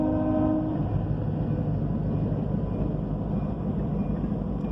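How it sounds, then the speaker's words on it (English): Long freight train with four locomotives rolling past during a December snowstorm, a loud continuous rumble of wheels and cars with a brief horn tone fading at the start, no voices. "You never see four locomotives on a train."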